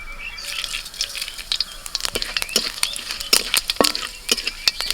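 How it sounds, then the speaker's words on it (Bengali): Bay leaf and panch phoron spices crackle in hot mustard oil in a kadai, a soft sizzle punctuated by rapid sharp pops and crackles, close and without talk. "কড়াইতে আবারও সর্ষের তেল দিয়েছি আর তেলের মধ্যে ফোড়নে তেজপাতা আর দিচ্ছি পাঁচ ফোড়ন"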